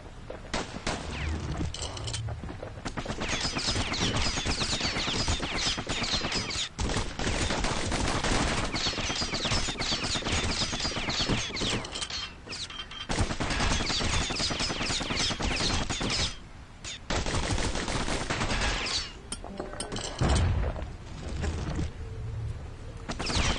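Rapid, sustained gunfire from a kid character's guns in a combat video game, loud and dense bursts nearly filling the whole stretch with only brief pauses, with other battle noise mixed in.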